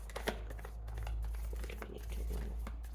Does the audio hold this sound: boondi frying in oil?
no